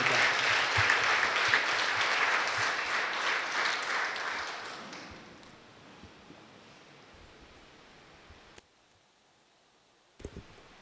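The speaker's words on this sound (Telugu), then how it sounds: "చివరిగా గట్టిగా చప్పట్లు కొట్టి దేవుని తెలియజేద్దాం" A church congregation at an inaugural mass claps loudly and together for about five seconds, then the applause fades into a quiet, hushed room with a faint knock near the end.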